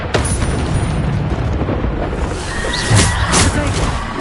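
A Descendo spell strikes in Hogwarts Legacy with a loud, rumbling magical impact and booming burst, layered over dense game effects and a voice calling out.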